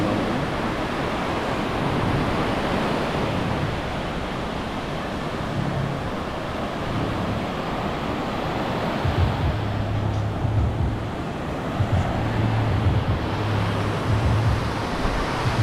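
Continuous roar of ocean surf at a surfing competition, with a low rumble, steady and enveloping, waves washing in without any voices.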